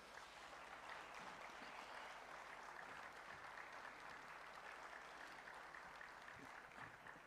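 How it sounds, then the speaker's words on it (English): Sustained applause from a large audience at the Bengaluru Tech Summit inauguration, a dense steady wash of clapping held at even loudness for several seconds, with no voices over it. "Let's give a round of applause."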